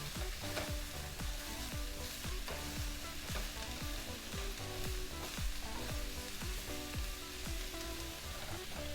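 Vegetables sautéing in a pan for a cabbage and cauliflower dish, a dense continuous sizzle with a regular pattern of crackling pops, loud and close throughout with no voices.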